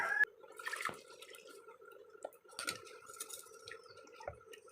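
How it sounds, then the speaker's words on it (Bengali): A mixing-jar bowl is rinsed with water, producing quiet, intermittent drips, light clinks and taps against the bowl, with short splashes separated by near-silent gaps. "এখন আমি এই মিক্সিং জারে বাটিটা এখন ধুয়ে নেব"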